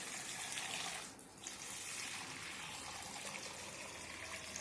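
Ambadi (roselle) leaves are rinsed under a running tap, giving a steady, close hiss of flowing water that dips briefly about a second in and then runs on evenly.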